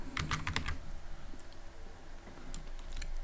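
Close computer keyboard typing in short bursts of rapid key clicks, a cluster at first and another near the end, with quiet gaps between.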